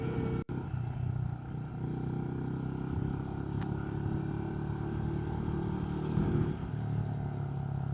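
Benelli Imperiale motorcycle idling on its old exhaust, a steady low rumbling thump at close range, with a brief clatter near the start and a slight rev swell later.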